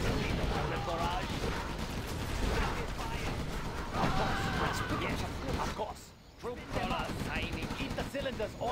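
A tank gun barrage in a real-time strategy game fires continuously in a dense, loud clatter of shots and blasts, with a brief dip near the sixth second and game voice lines layered over the battle.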